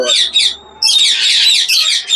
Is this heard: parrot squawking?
yes